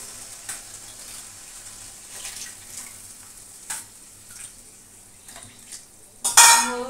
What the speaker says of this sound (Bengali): এবার দিয়ে দিচ্ছি ঝোল।